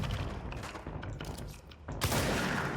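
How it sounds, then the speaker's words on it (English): Gunfire in a ghost-hunting hotel maze video game, several rapid cracking shots over a steady noisy background, ending in a louder burst. "Just need to shoot him once."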